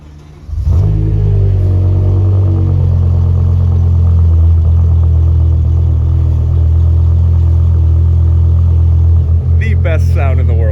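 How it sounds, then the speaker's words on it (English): A 2006 BMW M5 E60 with a 507-horsepower V10 cold starts with a quick crank and loud bark, then holds a deep, loud, steady high idle. A voice briefly cuts in near the end. "2006, 507 horsepower, BMW M5 E60, cold start."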